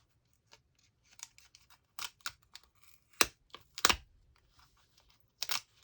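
Packing tape pulled off a roll in short tearing bursts to seal a paint container while working on miniature models, several sharp rips between quieter pauses, close and alone.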